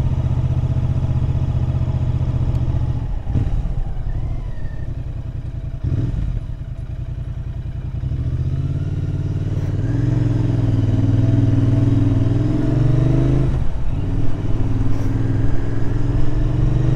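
A 2024 Royal Enfield Classic 650 Interceptor motorcycle is ridden on countryside roads from the rider's position, with a loud, steady engine drone that rises and falls with throttle over continuous wind rush and no talk.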